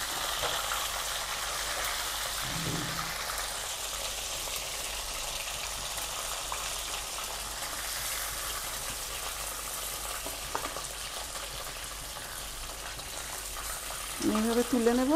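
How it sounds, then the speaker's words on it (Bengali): Chicken fries in a pan, a continuous close sizzle and crackle of hot oil running throughout, with a short voice or clatter near the end. "বেশ ভালো করে এপিট ওপিট করে লাল লাল করে আমি ভেজে নেব"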